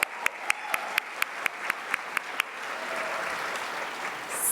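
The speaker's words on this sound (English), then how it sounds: "Another applause, please, for the 31 graduates of our 2019 program" At a scholarship and awards gala, a handful of sharp, evenly spaced claps ring out, followed by a soft, steady wash of audience applause for the program graduates.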